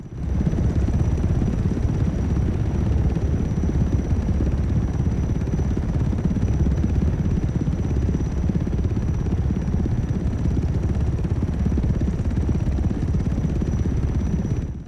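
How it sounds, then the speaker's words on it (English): A loud, steady whirring rotor drone from a Dune ornithopter in Microsoft Flight Simulator, with a rapid, choppy flapping pulse running unbroken throughout, close and constant with no other sounds. "it doesn't just sound like a helicopter. It does have a certain sort of flapping sound to it."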